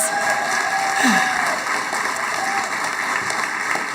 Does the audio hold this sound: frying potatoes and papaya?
no